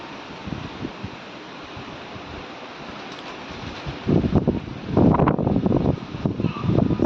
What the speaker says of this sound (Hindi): देखो बाहर बारिश लगी हुई है